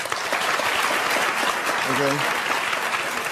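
A television talk-show studio audience applauds in a dense, steady roar from start to finish, with a host briefly saying a single word partway through.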